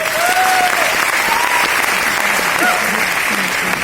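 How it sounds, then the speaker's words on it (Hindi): An audience at a motivational sales event cheers star agents with loud, sustained clapping that fills the room continuously, with a few brief whistles or voices rising above the applause. "जितने भी आज स्टार एजेंट यहां पे आएंगे उनके लिए एक जोरदार ताली।"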